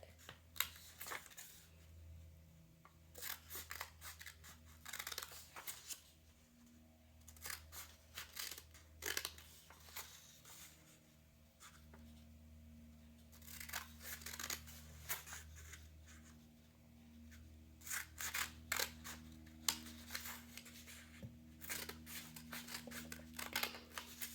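Scissors snip through paper strips for a paper weaving craft, close and quiet, in irregular clusters of crisp cuts separated by pauses.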